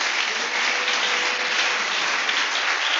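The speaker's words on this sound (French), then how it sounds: "Il faut bien acclamer le Seigneur." A church congregation applauds to acclaim the Lord, dense steady clapping filling the space at a constant level without a break, no voices standing out.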